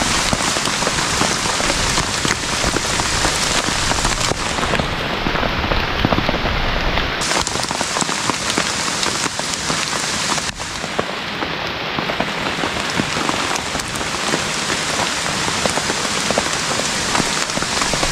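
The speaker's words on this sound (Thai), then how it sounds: "ไม่ไหวฝนตกสุดยอดจริงๆ" Heavy storm rain pours down in a Thai forest onto a tarp and campsite, a loud, dense, unbroken hiss of drops that stays steady throughout with no voices.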